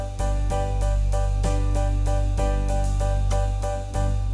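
Keyboard backing style in a 50s love-song ballad setting, a steady full-band groove of sustained organ-like chords over bass with soft rhythmic accents about every half second, played alone at even volume.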